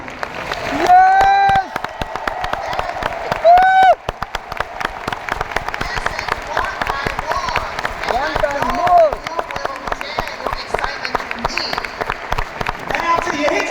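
Audience applause and clapping fill a hall at an Amway event, a steady crowd roar running throughout with a few louder swells, while a voice sings or calls out briefly above it.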